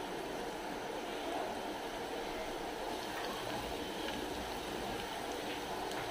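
Small lauki (bottle gourd) kofta balls sizzle in hot oil in a pan, making a steady, faint, hissing crackle that goes on without a break.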